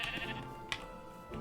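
A pink sheep in a video game bleats once clearly up close, followed by a fainter second bleat near the end.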